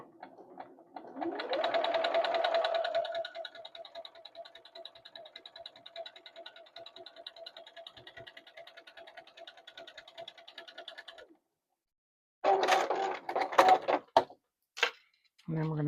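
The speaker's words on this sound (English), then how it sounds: "I'm just going to sew right on the inside" Sewing machine stitching a quilt block seam, a close, fast mechanical whir that ramps up then runs steadily before stopping, followed by handling clatter and a few louder knocks.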